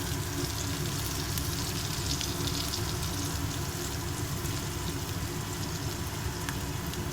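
Slices of raw banana (aratikaya) frying in oil while being turned over, a dense, even sizzle running close and loud the whole time.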